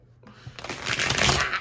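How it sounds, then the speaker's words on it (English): A deck of oracle cards is shuffled up close, a soft flutter building into a dense, loud riffle of card edges that lasts about a second. "This deck drives me crazy shuffling."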